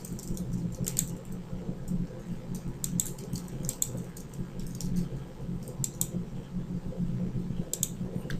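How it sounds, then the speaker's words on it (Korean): Computer mouse clicks while drawing with a polygonal lasso tool in an art program, sharp light clicks at an irregular, roughly one-per-second pace over a low hum, no speech. "클릭 한 번씩 하면서 이렇게 눌러주시면은 라소 툴이 이렇게 그리고 과감하게 줍니다"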